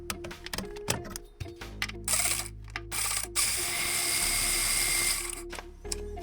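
An AC Delco cordless power tool works a nut loose on a Jeep YJ, giving clattering ratchet-like bursts with gaps between them that run into a sustained, close whirring drive lasting a few seconds.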